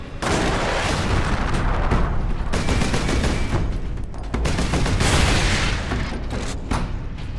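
Sustained heavy gunfire from Warhammer 40K Space Marine (2011) rattles without a break, mostly rapid machine-gun bursts and booming impacts packed into a loud, dense barrage with no talking.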